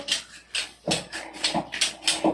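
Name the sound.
dog whimpering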